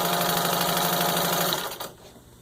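Steady, close whir of a vintage 1951 Singer 15-91 sewing machine, rewired and serviced, stitching fabric at an even speed for over a second before the motor slows and stops, with no talking.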